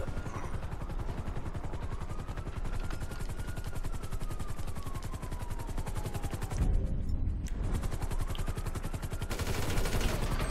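In GTA V, a helicopter's rotors beat rapidly and continuously while bursts of automatic gunfire rattle over the top, with louder shots and an engine sweep partway through.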